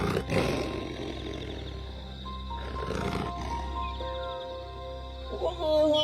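Lions roaring on the savanna, a few deep, heavy roars rising and fading over several seconds, moderately distant and alone without talk.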